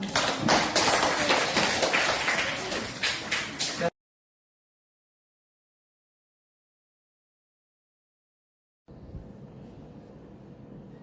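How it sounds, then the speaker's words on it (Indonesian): A classroom group of teachers and students claps together for about four seconds, a quick rhythmic run of close hand claps ending abruptly, followed by silence and then faint room noise. "Tepuk tangan buat kita semua."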